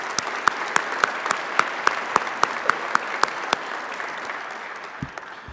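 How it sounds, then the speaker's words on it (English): Audience applauding police officers at a Peabody Police Department swearing-in ceremony: a sustained round of clapping from a crowd, with one nearby pair of hands striking out a regular beat over the wash before it tapers off. "please join me in a round of applause for our officers."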